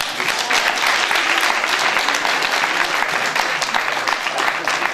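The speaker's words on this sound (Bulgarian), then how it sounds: "Аплодисменти за читалището!" Loud, dense applause from a concert audience at the 80th anniversary celebration of the Dobri Chintulov community cultural centre, a continuous crackling wash of many hands clapping close by for the full five seconds.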